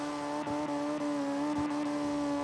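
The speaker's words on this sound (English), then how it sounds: "You hear the engine revs." Drift car engine at Ebisu Circuit during a competition run, revving hard and continuously with high wheel spin, a loud steady roar with brief dips as the revs shift.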